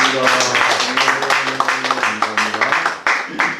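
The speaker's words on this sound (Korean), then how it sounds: "영광의 박수 하나 드리겠습니다." A church congregation at a Wednesday prayer meeting breaking into applause, steady massed clapping close by, mixed with a sustained tone underneath.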